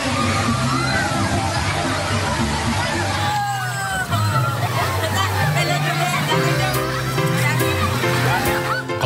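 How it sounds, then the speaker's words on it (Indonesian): Artificial waves slosh and splash through a crowded wave pool in Jati Agung, South Lampung, during the Lebaran holiday, with constant loud crowd babble and shouts layered over the churning water. "Kolam ombak di Kecamatan Jati Agung, Lampung Selatan dipadati pengunjung dalam momen libur Lebaran kali ini."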